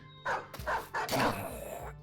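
Dogs in the video game Battle Brothers give several short barks and yips in quick succession, close and fairly loud.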